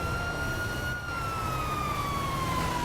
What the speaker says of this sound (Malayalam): ആംബുലൻസ് ഉണ്ടല്ലോ കാണുന്നില്ലേ